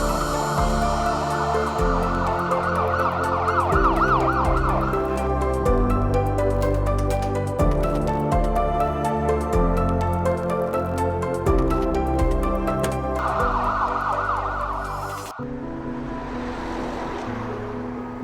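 An ambulance siren on service during India's COVID-19 lockdown wails in repeated rising and falling cycles over steady tonal sounds, fairly loud, then cuts off near the end, with no voices.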